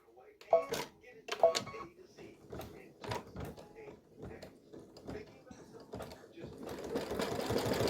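An embroidery machine stitching fabric held in a hoop for an in-the-hoop mug rug, a quick run of rhythmic mechanical stitching pulses that grows into a denser whirr toward the end.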